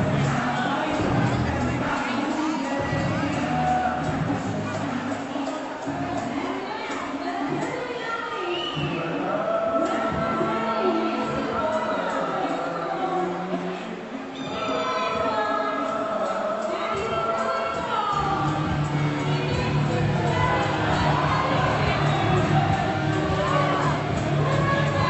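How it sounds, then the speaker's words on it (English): A wrestling crowd at an independent pro wrestling show cheers and shouts in a continuous roar, with scattered whoops and yells rising and falling. "Half the crowd is cheering for him."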